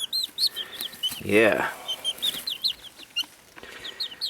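Chickens cluck and cheep in quick repeated bursts close by, with a short spoken word and a voice briefly heard among them, in a coop with sick, dying birds.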